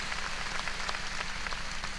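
Steady audience applause fills a televised Eurosong 2003 contest show in Bosnia, a dense crackling patter of many hands clapping at even volume throughout, fairly soft and without voices.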